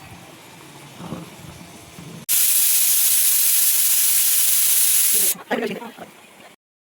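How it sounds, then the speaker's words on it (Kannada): A pressure cooker whistle venting steam while egg and chicken curry cooks: a loud, steady high hiss that starts abruptly, holds for about three seconds and then cuts off, with a voice speaking faintly before and after. "ಇಲ್ಲಿ ವಿಶಿಲ್ ಬರಲಿ ಕಾಯ್ತಾ ಇದ್ದೀವಿ"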